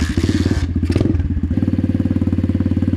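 An Amazon pit bike engine with an upgraded carburetor runs close by with a loud, rapid, pulsing putter. A brief rev at the start settles into an even, choppy idle.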